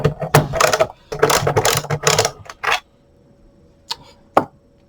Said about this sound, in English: We're going to be using a T15. T15, as you can see, fits in perfectly. Just get some kind of ratchet adapter on.